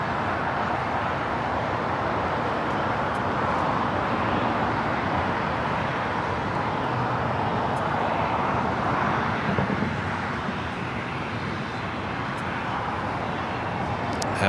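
An American Airlines Boeing 737-800 jet in oneworld livery at LAX, a steady broad distant roar with a constant level throughout, fading slightly near the end, with no voices.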